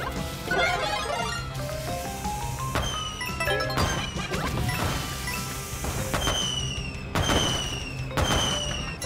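Fireworks burst repeatedly in Super Mario Bros. Wonder, a string of loud crackling pops and smashing explosions over bright, tonal game music and chimes, with no talk.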